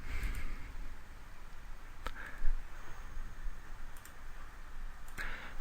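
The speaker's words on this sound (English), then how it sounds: "Click on the Downloads link." A computer mouse gives a few sparse, crisp clicks several seconds apart against a quiet, faintly humming background, with no one speaking.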